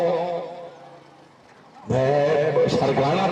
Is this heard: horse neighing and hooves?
yes